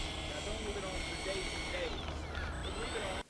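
A Freewing Avanti S RC jet flying with flaps down, its steady high-pitched ducted-fan whine carrying throughout with a pitch sweep as it passes, and a voice talking over it.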